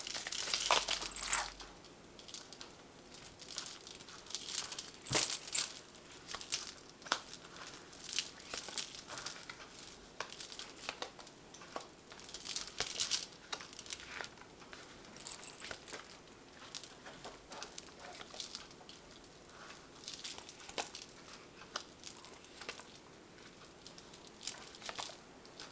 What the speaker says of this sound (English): So I'm going to draw some cards from the Tarot of the Cloisters for the main read.